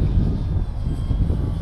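A Gaui X2 RC helicopter at full throttle fills the air with a steady, loud rotor and motor drone, continuous and unbroken, heard alone outdoors.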